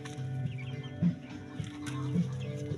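Small young chickens cluck close by, making short repeated clucks in an uneven rhythm over a faint ambient background, with no speech.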